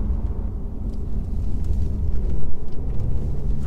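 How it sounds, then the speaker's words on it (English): A 2019 Mercedes E450 Coupe in Sport Plus mode accelerates hard. The engine gives a loud, continuous, deep rumble that swells slightly partway through. "Just like you literally just touch the throttle and it sends you flying."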